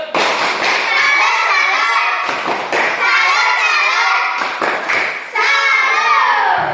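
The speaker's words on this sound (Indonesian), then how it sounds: "kasih tepuk salut buat kelompok jarak" Indonesian classroom of students doing a rhythmic group clapping cheer for a presenting group, loud close-up bursts of claps and thumps with children's voices shouting along.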